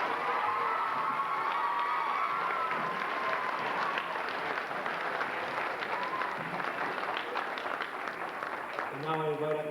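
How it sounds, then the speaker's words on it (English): Applause and cheering from an audience at a school D.A.R.E. graduation ceremony, steady dense clapping with children's shouts and crowd chatter mixed in, fading near the end as a voice begins. "Please give them a nice round of applause."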